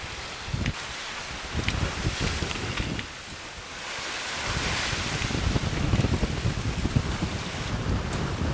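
Strong wind buffets the microphone aboard a sailboat at sea, with steady gusty roar and surf and wave wash throughout, easing briefly before building again.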